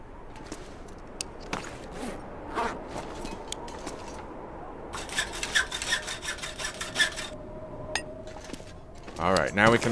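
Scraping, rasping strokes of a hacksaw being repaired in the video game The Long Dark, a series of gritty rubs and clicks building to a louder burst of rasping at the end, with a faint steady tone beneath.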